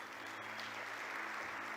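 A church congregation applauds, a steady wash of many hands clapping at once, filling the room at moderate level with no break.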